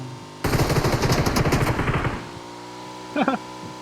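Rapid automatic gunfire rattles loudly for about two seconds in the shooter game PUBG, then fades, and a voice briefly speaks near the end.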